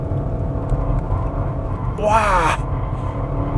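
A 2021 Audi RS6 Avant wagon accelerates hard in third gear on a snowy, winding road, its engine a steady low rumble inside the cabin while a voice exclaims over it.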